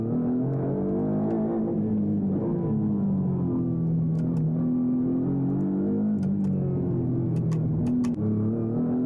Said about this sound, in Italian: Provo a guidare la nuova Maserati GT2 sul simulatore di assetto corsa competizione, un mostro da oltre 600 cavalli